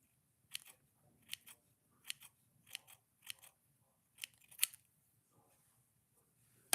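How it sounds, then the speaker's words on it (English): Scissors snip embroidery thread in a quick point-cutting pass, giving about eight sharp, close, crisp cuts in an irregular rhythm against a quiet room. "But if you wanted to keep it really fluffy, you would sort of point cut it."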